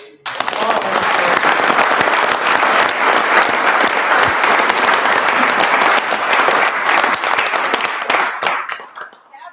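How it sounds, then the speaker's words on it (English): A room full of people at a county board of supervisors meeting applauds, swelling quickly to a loud, dense ovation that holds steady and then trails off into scattered claps at the end. "So just one last round of applause for Kate."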